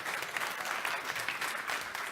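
Loud, dense applause from a lecture audience, many hands clapping together steadily and close, with no speech over it.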